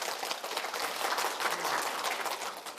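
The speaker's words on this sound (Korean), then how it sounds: "소중한 나라를 위해서 격려의 박수를 한번 쳐봅시다." Audience at a lecture on preparing for the 100-year life applauding in a dense, even burst of clapping that fades slightly at the end.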